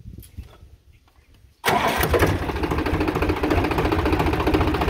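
Tractor engine starting after an oil change: a quiet cranking stretch, then it fires and settles into a loud, steady rumbling idle that continues to the end.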